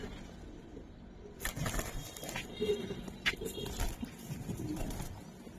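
Pigeon held in the hand at a pigeon farm, giving soft low coos among handling rustles and light thumps, close and faint.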